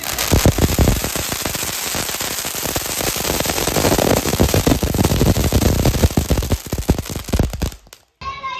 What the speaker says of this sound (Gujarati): ઉપર વાળા ફટાકડા નીચે ફૂટી રહ્યા છે ક્યારના